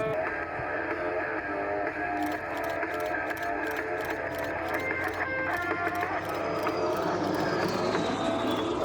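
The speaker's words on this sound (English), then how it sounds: "This Albatross is one beautiful machine" An Albatross propeller aircraft flying at the Central Coast Airshow at Warnervale Airport, producing a continuous rumbling engine drone with a pulsing buzz that holds steady and swells slightly toward the end, with faint voices in the background.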